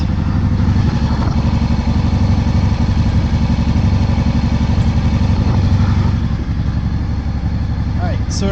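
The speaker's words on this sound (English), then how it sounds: "started the motor up. It's running a little off right now." A Honda PC800 motorcycle engine idles steadily right after a carburetor cleaning, running slightly rough with a constant low throb and faint clatter that holds loud and close throughout.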